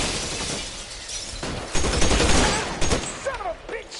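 Gunshots ring out in the crime video game L.A. Noire: a loud, clustered volley of cracks with shattering debris across a few seconds.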